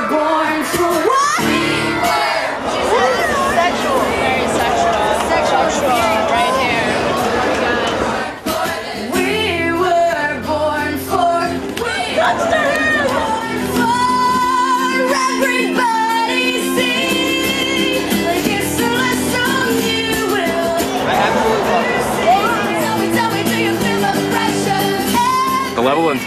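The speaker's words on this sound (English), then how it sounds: "Intensity of the crowd." A packed concert crowd shouting, whooping and cheering loudly and continuously, mixed with the band's music and voices, close and dense with no break.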